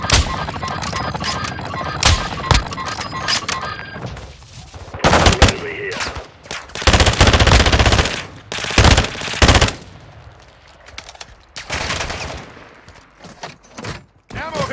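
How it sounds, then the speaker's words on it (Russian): Call of Duty Warzone DMZ gunfire from a watchtower: loud bursts of automatic fire and single shots in clusters with quieter gaps, someone speaking Russian between them. "Вот так же с вышки стреляют."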